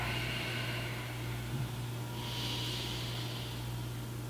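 Slow breathing through the nose while holding a baby cobra yoga pose, a soft, drawn-out inhale rising to a hissing breath and then an exhale, close and quiet over a low steady hum.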